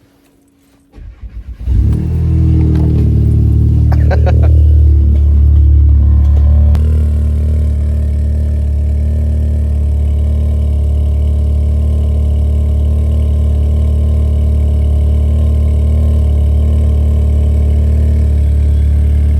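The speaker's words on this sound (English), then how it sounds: "I haven't showed you a cold start in a long time, so let's do one now." A 500bhp Volkswagen Golf R cold-starts with a brief crank, then flares into a loud, buzzy high idle that drops after a few seconds to a steady, deep idle drone held close to the exhaust.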